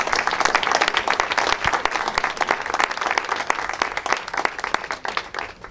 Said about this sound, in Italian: direi di fare un grande applauso a Sara